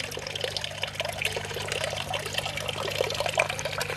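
Water pouring steadily into an aquaponics sump tank, a continuous close splashing trickle over a low pump hum, no talking.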